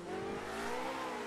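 Race car engine in Project Cars 2 holding a high, steady revving drone with rising harmonic whine, brief and fairly loud with no talk over it.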